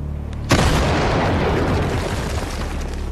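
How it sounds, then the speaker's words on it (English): A sudden, deafening cannon blast in a quarry erupts after a brief rumble, its roar sustaining and rolling on without fading. "The cannon blasts with unbelievable power."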